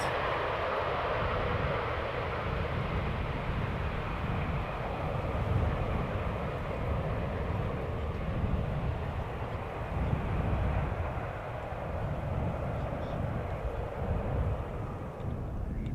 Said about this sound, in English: KLM style landing, keeping up the speed, vacating late.